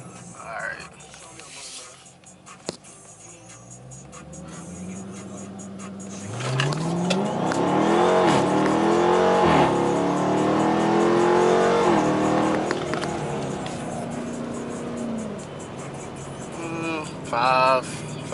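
A 2015 Dodge Charger R/T revs and accelerates hard through the gears, its engine note climbing and dropping as it shifts, loud and up close after a quieter idle, with a voice briefly heard at the start.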